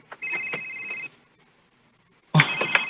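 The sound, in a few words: cellphone ringing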